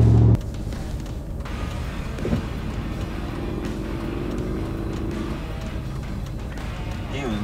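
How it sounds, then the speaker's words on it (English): A Ford truck with a solid axle swap and large mud tires drives along with a loud, continuous low exhaust drone, the engine tone rising slowly and holding steady throughout. "this truck's a really bad exhaust drone, so you guys can't really hear me"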